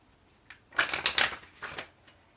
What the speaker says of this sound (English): we're shuffling this